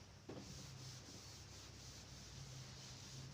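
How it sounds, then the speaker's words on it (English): Writing is rubbed off a board with a steady, close, continuous scrubbing hiss that begins with a small knock and runs on without a break. "So I am rubbing the question."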